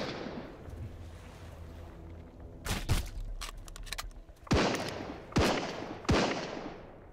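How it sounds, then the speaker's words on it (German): Gunfire in the survival video game Sunkenland: four sharp, loud shots land at uneven intervals over a steady low background rumble, with no talking. "Er schießt auf mich."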